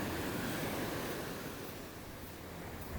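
Ocean surf breaks on a US beach where surfers wait offshore and stone breakwaters line the shore: a steady, fairly faint roar of washing waves, slowly easing, with no voices.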